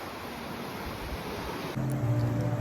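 Steady broadband roar of Atlantic ocean surf at rocky cliffs in Portugal, with wind rushing across the microphone, continuous and fairly loud, with a low hum entering partway through.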